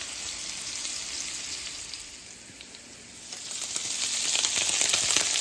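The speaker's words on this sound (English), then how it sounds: "So I'm caramelizing this meat right here." Meat searing on high heat in butter in a pan, a loud continuous sizzle and crackle that eases briefly midway and then swells again, with no talking.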